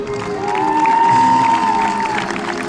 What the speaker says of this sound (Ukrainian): Привітаємо оплесками випускників минулих років.